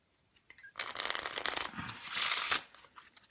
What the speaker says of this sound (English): it's a little hard for me to do a riffle shuffle